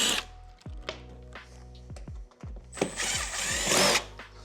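A cordless power drill driving screws during a piano repair, with repeated short whirring bursts that spin up and wind down, then a longer, louder high-pitched run at the end, close and with no talk.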